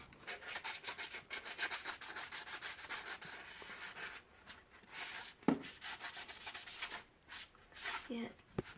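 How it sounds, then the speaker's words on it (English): Sandpaper rubbed by hand over a plastic dollar-store hockey mask, rhythmic back-and-forth scratching strokes in quick runs with short pauses, close and fairly quiet. "let's sand it down"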